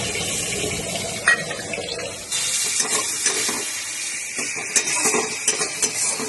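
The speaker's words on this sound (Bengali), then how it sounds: "মশলা কোলানো জলটা আমি দিয়ে দিচ্ছি" Strained spice water is poured into a hot cooking pan of vegetarian chhanar kofta with potatoes, bursting into a hiss and sizzle along with clinks and scrapes of utensils, close and fairly loud, with no talking.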